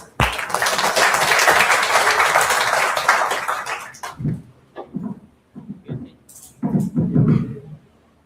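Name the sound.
audience applause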